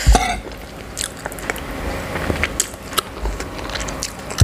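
Someone eats a Thai home meal of pumpkin curry, fried liver, jaew dip, Chinese sausage and fresh vegetables such as okra, with close, crisp bites and wet chewing in an irregular rhythm and no talk.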